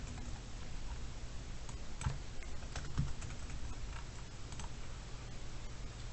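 Soft keystrokes on a computer keyboard during number entry, faint scattered taps over a steady low background hum, with a couple of slightly firmer presses; no talking.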